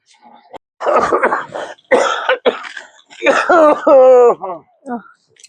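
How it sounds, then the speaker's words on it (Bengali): A person in a rural Purulia village drama coughs in several rough, close bursts and clears the throat, trailing off into loud groaning, voiced sounds. "তোমার কাশিটা হয়ে গেছে"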